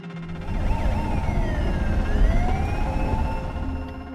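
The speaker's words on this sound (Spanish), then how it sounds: "mientras las sirenas policiales lo persiguen" Police sirens wail during a film car chase, their rising and falling tones held over a loud, continuous rush of traffic and engine noise.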